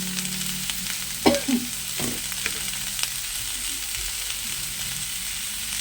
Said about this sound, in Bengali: এবার এটা নাড়বো আর নুন আর হলুদ দিয়ে চাপা দিয়ে দেবো গ্যাসটা আস্তে করে।